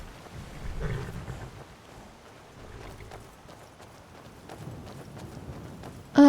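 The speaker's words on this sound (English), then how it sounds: "And those are horses." Horses clip-clop in the Skyrim video game as a soft, irregular patter of hooves under ambient game sound, fairly faint and unhurried, with no talking.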